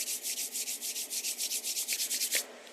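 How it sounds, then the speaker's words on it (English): Two palms rubbed briskly together, a dry rhythmic swishing of about twenty quick back-and-forth strokes heard close and alone, ending abruptly. "I do that by rubbing my palms till they get a little warm."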